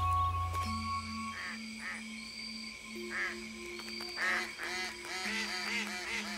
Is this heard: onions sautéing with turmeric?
no